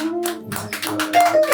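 Church congregation clapping in rhythm during a Sunday gospel service, with bursts of hand claps over sustained singing or organ tones and a faint voice in the background.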